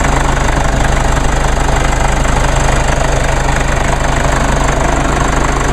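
A 2.1 liter four-cylinder twin turbo diesel engine running at idle, a loud, close, steady rumble with a fast even knock and no talking.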